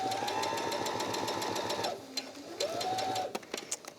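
A sewing machine stitches around the edge of a fabric makeup bag, a steady rapid needle chatter with a humming motor that pauses briefly, restarts, and then slows into separate clicks.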